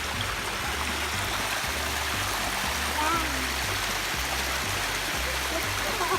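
A small waterfall at the end of a stream on a hiking trail in the North Etiwanda Preserve pours in a steady, close rushing wash, broad and continuous without pause.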